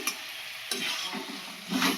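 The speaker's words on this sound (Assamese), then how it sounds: "এইখিনি পূৰা ভাজি ল'ম এতিয়া" Chicken pieces fry in oil in a pan, a soft steady sizzle with a couple of sharp utensil taps and a brief stir near the end, heard close and alone.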